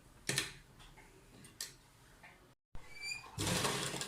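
A sewing machine stitching the neck of a kurta runs in short, quiet bursts of ticking with brief pauses between them, ending in a louder, longer run of stitching.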